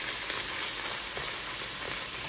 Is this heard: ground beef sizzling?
yes